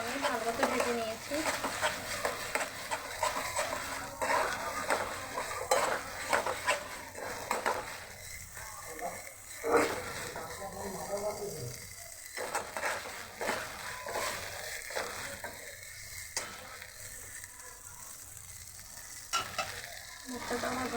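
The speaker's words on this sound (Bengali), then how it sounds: "মশলাটা আমি ভালো মতো ভেজে নিয়েছি।" Spice paste frying for a mustard hilsa fish curry, a busy sizzle with spatula stirring and scraping against the pan, louder early and thinning later, with someone talking over parts of it.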